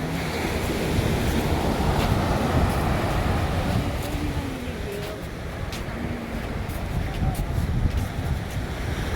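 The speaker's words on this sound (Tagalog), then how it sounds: "Ang ganda ng alon, grabe." Ocean waves breaking at Dana Strands Beach, California, a continuous loud rushing surf with wind buffeting the microphone and faint voices underneath.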